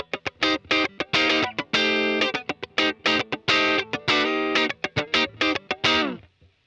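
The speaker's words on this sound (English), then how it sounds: "Let's go Andy John's guitar. Let's see how that sounds." Playback of an electric guitar track with distortion and other effects, recorded in LUNA, brings loud, crunchy chords and choppy riffs in a stop-start rhythm with short gaps, ending on a sustained chord that cuts off.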